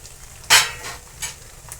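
Cooked chandan batwa greens drop into hot oil with a sudden loud hiss that fades over a second, followed by a few softer crackling bursts of frying in the pan.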